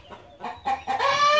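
A rooster crowing close by on a farm, a single loud call that rises through several short stuttering notes into a long sustained crow.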